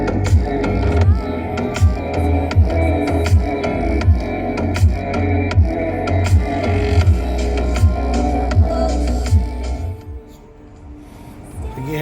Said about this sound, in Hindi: ये है इसके म्यूजिक सिस्टम की क्वालिटी जो कि काफ़ी ज़्यादा अच्छी है